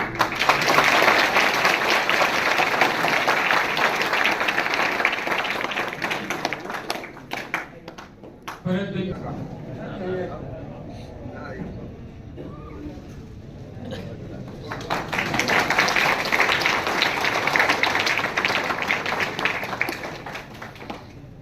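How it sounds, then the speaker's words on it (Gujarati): An audience at a student reunion event claps in a dense, loud burst that fades around the middle. Talk follows in the lull, and then a second strong round of applause builds again. "તાળીઓ"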